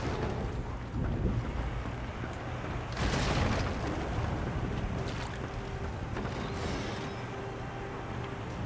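Rain and thunder in Divinity Original Sin 2: a steady, windy wash of rain with rolling thunder that swells loudly around the third second and then eases, and no voices.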